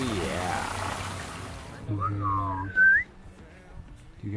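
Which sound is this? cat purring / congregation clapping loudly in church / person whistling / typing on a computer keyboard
person whistling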